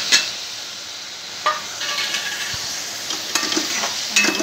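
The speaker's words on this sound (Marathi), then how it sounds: "मसाला चांगला हे करून घ्यायचा, भाजून घ्यायचा" Spice masala of black masala, chili powder and turmeric roasting in a pan for chole: a constant loud frying hiss with a few clinks and scrapes of stirring, and no voices.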